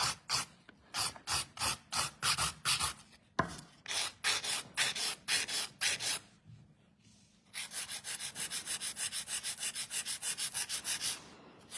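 A nail file works over a gel nail surface in quick, regular back-and-forth strokes, close and crisp, then shifts to a faster, steadier buffing rhythm.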